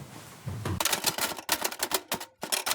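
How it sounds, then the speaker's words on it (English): Someone types hard and fast on an old typewriter, a rapid burst of loud, sharp clacking keystrokes with brief pauses, close by and with no talking. "Aggressive typewriter noises."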